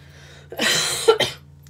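A single short cough, fairly close and moderately loud, in a room with a low background hum and a bit of quiet murmur before it.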